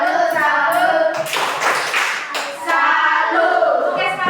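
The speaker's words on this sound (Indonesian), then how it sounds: "tepuk salam untuk Aca." A classroom of children doing a rhythmic clapping chant, a burst of hand claps in the middle framed by sung and chanted voices.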